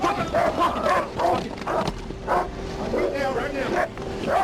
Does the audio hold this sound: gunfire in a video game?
no